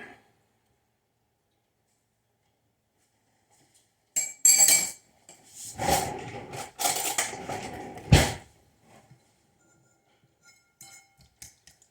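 A fork clinks and scrapes against a bowl while mixing ingredients, in a few short bursts after a long quiet stretch, then tapers off to faint taps.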